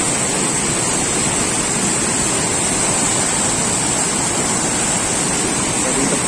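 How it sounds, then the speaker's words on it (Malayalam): Karinkappara waterfall pouring in a steady, close, full roar of rushing water that holds unchanged throughout, with no voices. "കരിങ്കപ്പാറ വെള്ളച്ചാട്ടം കാണാൻ വന്നാണ്."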